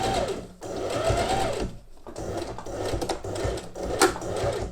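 A sewing machine stitching elastic lace trim onto a waistline runs in close, loud bursts of rapid mechanical clatter, broken by short pauses, with a final back-tack.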